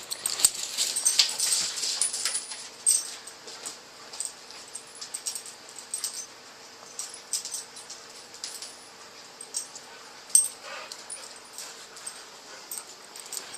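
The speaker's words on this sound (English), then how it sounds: "here's some snacks for the little funny dog" A small dog whimpers and yips softly in a series of faint, intermittent high cries, with light rustling and clinking in between and no talking.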